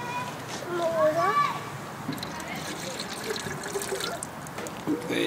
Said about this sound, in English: Do you want to water the garden?